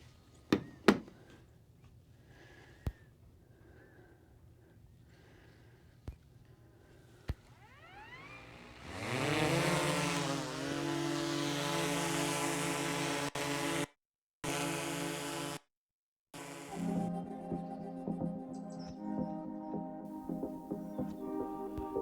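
A DJI Mavic 3 Pro drone with Neewer ND filters spins up after a few clicks and takes off, its high, steady whine loud and close, then holding, briefly cutting out twice before returning.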